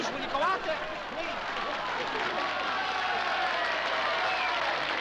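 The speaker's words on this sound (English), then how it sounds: "I'm sorry I made you applaud so long" Sustained studio audience applause from a 1950s-era sitcom taping, a dense wash of many hands clapping steadily at full loudness for the whole stretch, with a faint murmur of crowd voices mixed in.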